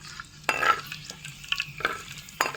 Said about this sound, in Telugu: కొంచెం కరివేపాకు ఎండుమిర్చి ఒకసారి ఇలా తిప్పుకుందాం